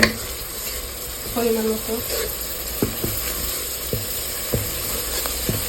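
Turmeric, chili and curry powder frying with a little water alongside rohu fish in a pan, giving a steady close sizzle with a few spoon knocks and a brief spoken remark.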